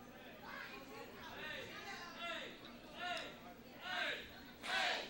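An arena crowd at a ProSouth professional wrestling event chants in rising, rhythmic swells, each surge louder than the last, over a steady bed of murmuring chatter.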